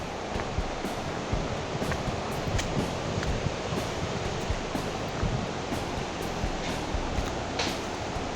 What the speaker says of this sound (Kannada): ನೀವು ಇದು ಆವಾಜ್ ಕೇಳಿಸ್ಕೋಬೋದ್ರಿ ಇದೆ ಎಷ್ಟು ಫೋರ್ಸ್ ಐತಿ ನದಿ